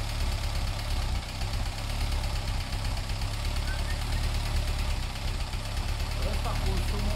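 A 22 kW, 380/220 V generator engine runs with a steady, close, low mechanical drone and an even knocking pulse, holding constant throughout without pauses.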